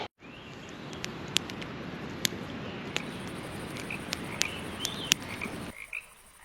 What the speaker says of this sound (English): You could hear the frogs all night in the river behind us